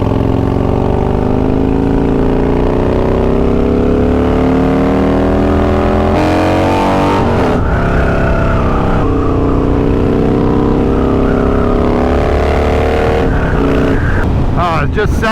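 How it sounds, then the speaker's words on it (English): A twin cam motorcycle engine with aftermarket pipes rumbles steadily at cruising speed, the deep loud exhaust rising and falling as the throttle changes, with wind buffeting over it. "the twin cam just hits differently, you know, especially if you got the right pipes on it."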